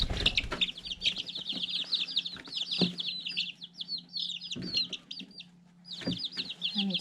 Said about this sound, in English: let's go check on the chicks, see how they're doing.